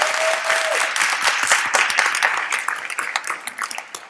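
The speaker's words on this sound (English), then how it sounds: "Let's give another round of applause for our wonderful marketing team here." Theater audience at a high school live radio play of A Christmas Carol applauds, a full, close wash of many hands clapping that thins and turns patchier toward the end.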